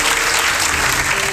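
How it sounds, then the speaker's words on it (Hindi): Enthusiastic audience applause at a Hindi-language BSF success story event, dense steady clapping filling the whole stretch, loud and sustained without a break. "तो इनके लिए भी जोरदार तालियां।"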